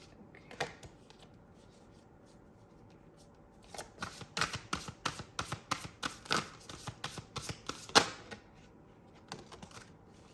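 Tarot cards being shuffled by hand, a quick burst of crisp riffling slaps with a few separate flicks before and after, close and alone without any talk.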